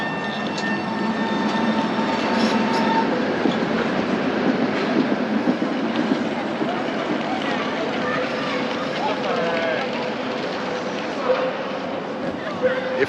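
A red Prague tram rolls along its rails in the Old Town, a steady rumbling ride with metallic wheel noise and faint squeals throughout, with people talking under it.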